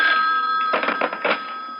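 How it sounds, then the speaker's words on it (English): A telephone rings as a radio drama sound effect: a steady high electronic tone with two short bursts of rattling bell-like ringing, close and fairly loud, no voices. "when the phone rang"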